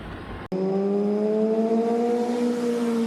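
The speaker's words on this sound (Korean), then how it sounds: "한밤중 배달 오토바이가 큰 소음과 함께 사거리를 지나갑니다." After a brief cut, a delivery motorcycle's engine roars close by with a sustained, slowly falling whine as it passes loudly through an intersection at night, no voices.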